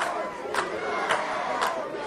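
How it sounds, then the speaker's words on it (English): A wrestling arena crowd cheers and roars for a Tony Atlas versus Brickhouse Baker match, with a dense, continuous wash of voices broken by a few sharper bursts of shouting. "The crowd here cheering it up."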